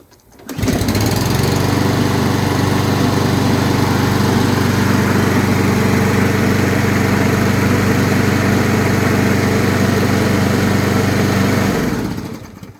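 A Poulan push lawn mower engine runs steadily at full throttle after servicing, a loud continuous droning roar that starts up, holds even for about eleven seconds, then cuts off near the end.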